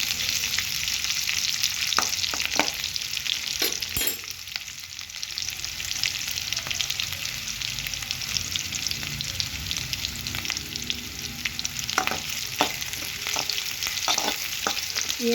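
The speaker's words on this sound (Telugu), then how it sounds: "బాగా ఫ్రై చేసుకోండి" Eight to ten cashew nuts frying in oil in a pan for chicken curry, a steady close sizzle with scattered scraping stir strokes and small pops, no talk.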